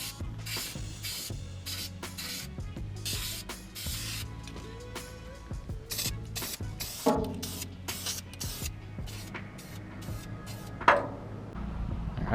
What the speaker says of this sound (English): Go ahead and spray over that real quick with a can of black